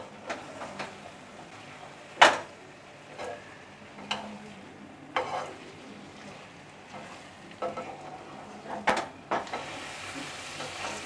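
Stirring grated fresh coconut and coriander into a pan of bombil methi (dried bombay duck with fenugreek), with a spoon scraping and clicking against the pan in irregular strokes over a low sizzle.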